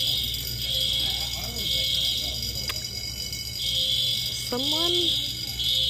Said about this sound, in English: Your fire alarm.